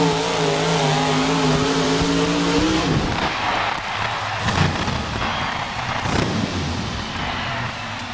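A 4wd pulling truck roars at a 1996 NFMS truck pull in Louisville, Kentucky, its loud engine holding a steady pitch before breaking into a rougher, noisier roar that carries on to the end.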